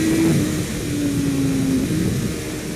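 A sport motorcycle engine on a race track holding a loud, steady high-rev drone with the throttle pulled wide open, close and continuous with a slight rising whine.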